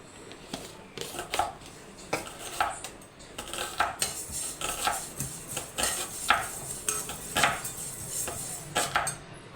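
Fenugreek, mustard, cumin and coriander seeds fry in a pan while a metal spoon stirs them, giving repeated close clinks and scrapes of metal on metal over a soft sizzle.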